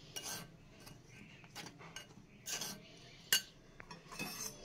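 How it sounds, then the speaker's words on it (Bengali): Cake batter made without eggs or essence stirred in a bowl, a spoon clinking and scraping against the sides in uneven bursts, close and fairly quiet, with no talking. "তো এগুলো সব ভালো করে মিশিয়ে নিচ্ছি"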